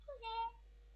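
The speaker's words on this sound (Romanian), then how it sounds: "Măi, dar lasă pisoiul, n-ai auzit că nu mai vrea să stea." A cat gives a single short, faint meow, heard alone against a low background hum in a quiet indoor room.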